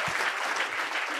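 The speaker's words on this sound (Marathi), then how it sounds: "ज्यांनी टाळ्या वाजवायला सुरुवात केली" Audience applause at a talk, a short burst of steady clapping from a crowd lasting about a second.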